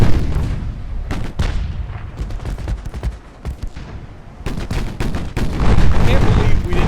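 Naval 8-inch guns boom in the video game Ultimate Admiral Dreadnoughts, heavy shots landing in irregular clusters with sharp attacks and rumbling tails, loud and close, with a brief quieter lull midway.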